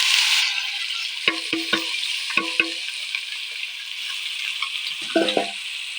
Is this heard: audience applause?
no